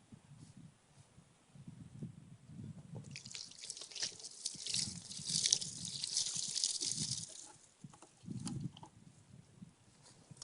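Hot water poured over a color-changing helmet, giving intermittent dripping and splashing with a brighter hiss of running water in the middle stretch, fairly close and moderately loud with no talking.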